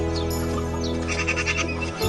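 Goats bleat in short, wavering cries over a steady, droning background, the calls close and fairly loud, repeating in quick succession.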